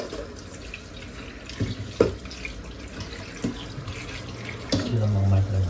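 Tap water runs into a sink while raw eggs are washed for making salted eggs, a steady rushing stream broken by a few clunks and knocks of the eggs and container, with a voice briefly underneath.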